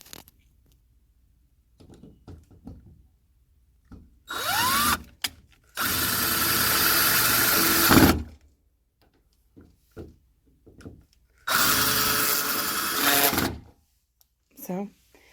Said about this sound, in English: use a drill or an electric screwdriver to make your work a little bit easier and drill those the rest of the way in